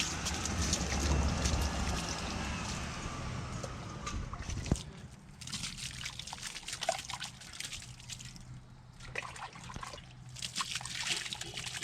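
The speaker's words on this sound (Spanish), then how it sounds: "Y le voy a lanzar el agua con la melaza." Water mixed with molasses splashed over a compost pile, a wet rush and trickle in the first few seconds that fades into quiet drips and faint outdoor background.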